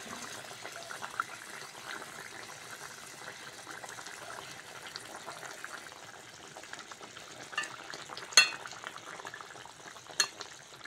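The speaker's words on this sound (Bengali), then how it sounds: "ভেজে রাখা মাছগুলো দিয়ে দেবো।" Fried golden fish slid into a simmering fish curry, a soft continuous bubbling and light sizzle with a couple of sharper clinks of utensils near the end.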